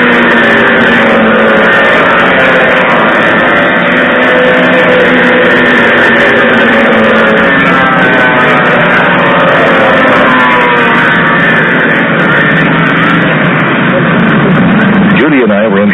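Old Polaris snowmobiles race around a track, their engines blaring in a constant, loud drone that swells as the field passes, with a commentator's voice running over the noise throughout.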